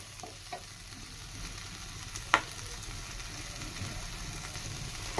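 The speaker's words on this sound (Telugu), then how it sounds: "ఈ విధంగా లో ఫ్లేమ్ మీద మొత్తం రొయ్యలు మొత్తం ఫ్రై చేసుకోవాలా" Prawns fry in masala over a low flame, giving a steady close sizzle with a brief stir or scrape near the middle, alone without talk.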